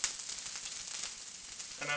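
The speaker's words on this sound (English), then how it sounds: "You hear that sizzle away rather nicely." Broccoli pops into hot oil in a pan with pancetta pasta cooking, giving a bright, continuous sizzle close by that holds steady before a small clatter at the end.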